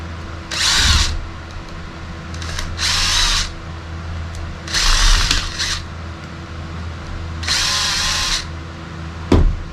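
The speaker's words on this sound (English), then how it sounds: "Break out my drill here." A power drill whirs in four short bursts separated by pauses, removing screws from a Shimano IX 4000R fishing reel, with a steady low hum in the background and no talking.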